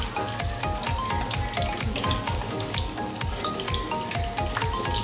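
Food fries in hot oil in a pan while making paneer masala, a loud, dense sizzle packed with rapid spattering pops that runs without a break.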